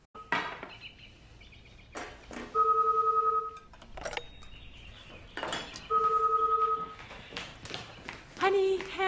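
A telephone rings in an excerpt from Spielberg's 2001 film AI: two clear electronic ring bursts among tapping, footsteps and household noise, with a voice speaking briefly between them and a fainter third ring near the end.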